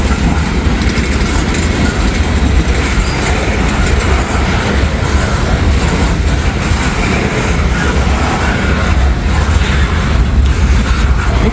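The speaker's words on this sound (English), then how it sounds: "There's a nice little cut of boxcars back here. Whoop, whoop, slowing down." A freight train of boxcars rolls past close by, a loud continuous rumble with rhythmic clickety-clack of wheels over rail joints, the steady roar filling the whole stretch as it slows.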